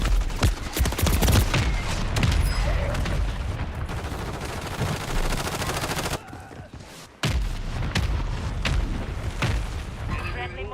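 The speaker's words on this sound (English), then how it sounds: "Friendly mortar strike inbound." Mortar strike explosions and gunfire in a video game: dense, continuous rattling fire and deep booms fill the clip loudly, with a brief lull before the barrage resumes.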